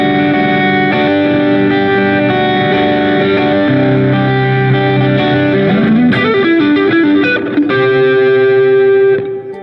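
Heavily distorted electric guitar plays sustained chords and a sliding run, thick and loud throughout with a slight shimmering effect and no voices.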